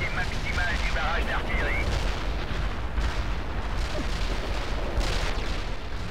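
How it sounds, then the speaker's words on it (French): Heavy artillery barrage in the real-time strategy game World in Conflict, a continuous roar of rumbling booms and blasts, with a whistling sweep near the start and no letup. "barrage d'artillerie lourde"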